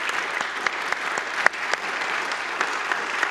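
A city hall audience breaks into applause for police, fire and EMS first responders, a dense, steady clapping from a large crowd with a few sharper claps standing out near the front.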